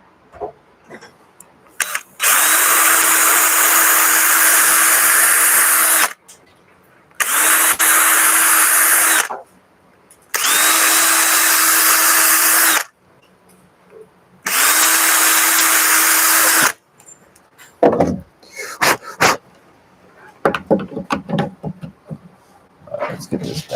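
Power drill boring holes, four loud sustained whirring bursts of several seconds each with short gaps between, followed by clattering handling noises and brief bits of talk.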